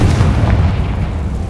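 A Confringo spell explosion in the Hogwarts Legacy video game bursts as a single loud, booming blast that rumbles heavily for about a second and a half before slowly fading.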